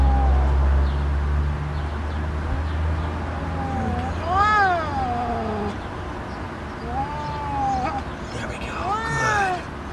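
A cat meows several times: drawn-out, rising-and-falling cries that come in small clusters, fairly close, over a low background rumble.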